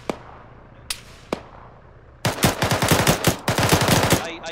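Rapid automatic gunfire in a video game, a few isolated single shots first, then a dense, loud sustained burst of machine-gun fire lasting about two seconds, with no voices.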